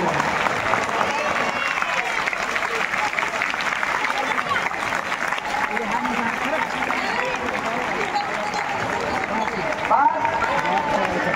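An audience at a public talk in Latur claps for teachers, a dense, steady wash of many hands lasting throughout at an even, fairly close level.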